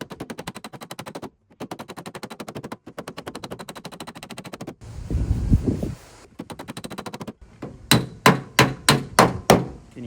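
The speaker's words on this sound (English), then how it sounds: "Basically moving the dolly with the hammer." A body hammer strikes a steel dolly held behind a dented car panel, with a run of sharp, evenly spaced metallic raps near the end after a stretch of rapid repeated tapping and a brief rougher scraping burst.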